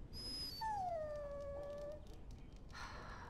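A dog in Dragon Age: Origins lets out a long, high, wavering whimper that slides downward and fades, followed by a brief soft rustle, heard alone with no talking.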